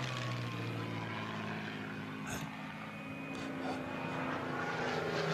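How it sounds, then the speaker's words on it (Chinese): A Heinkel He 111 bomber approaches with a steady, droning propeller-engine roar that fills the whole stretch and holds fairly loud and unbroken throughout. "错，这不是你们的九六式轰炸机，是我们的亨克尔 HE-111"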